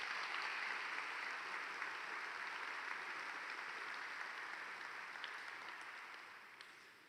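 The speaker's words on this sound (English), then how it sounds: "let's give them a big round of applause for their leadership" An audience at a Kentucky summit applauds Perry County officials, a dense sustained wash of clapping from a large crowd that holds steady, then slowly fades toward the end.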